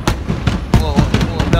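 Fireworks bursting in the sky at a New Year's Eve countdown, a loud irregular series of sharp cracks and booms with a person's voice breaking in between the blasts.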